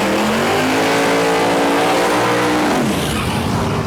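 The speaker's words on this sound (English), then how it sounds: "Okay, we got a nitrous S10 and we got a big boosted Silverado." A nitrous-fed Chevrolet S10 and a big boosted Silverado roar off the line together at a no-prep drag race, a loud, dense engine blast with pitch climbing as they accelerate, then shifting and fading slightly near the end.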